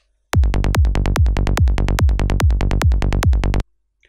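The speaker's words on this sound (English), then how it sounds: "So pretty decent sounding kick and bass." A punchy, unprocessed sampled kick drum thumping in a steady fast rhythm together with a deep, buzzy synth bass, loud and close, ending abruptly.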